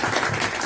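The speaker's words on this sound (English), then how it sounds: "Give them a round of applause." Brief burst of audience applause at an employee happiness conference and book launch, a steady dense patter of clapping from a crowd in an indoor hall.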